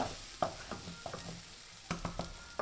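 Onion cooking in a pan for fajita rice, a quiet steady sizzle broken by scattered scraping clicks of stirring, close and faint.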